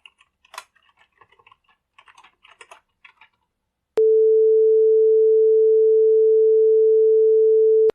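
Faint keyboard typing and clicks, then a pure synthesized sine tone at a fixed mid pitch sounds alone, steady and loud for about four seconds before stopping abruptly.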